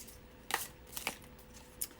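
Thick, not very shiny tarot cards being shuffled, three or four brisk riffling bursts close by and alone, with quiet gaps between them.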